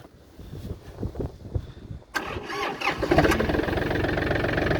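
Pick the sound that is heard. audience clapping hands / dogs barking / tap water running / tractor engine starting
tractor engine starting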